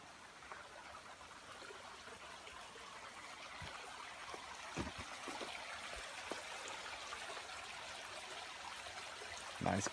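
Soft, steady babble of a small stream at the Hawk Mountain Shelter water source along the Appalachian Trail, a faint, even trickle throughout with a few light knocks.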